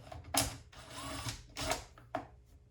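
Plastic housing parts of a Makita 7900 clicking together: a few sharp, close snaps and clacks with brief fumbling handling noise between them, quiet overall.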